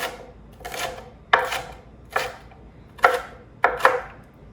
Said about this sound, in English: And I'm just gonna give this just a little chop.